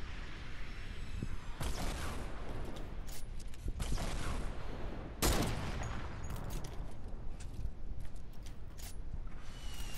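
Sustained gunfire in the combat game Red Lynx: dense bursts of rapid shots and fusillades, with louder volleys crackling near the start, middle and around five seconds, loud and continuous throughout without speech.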